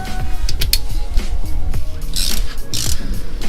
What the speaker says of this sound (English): I'm just gonna actually torque it with a wrench